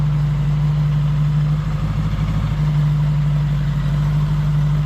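A 1977 Honda GL1000 motorcycle engine runs at a steady idle, a close, even low drone with a slight rhythmic roughness and no voices.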